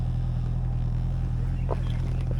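A motorcycle engine idles on a rural paddy-field path, giving a low, steady rumbling drone from close by, with faint brief voices near the end.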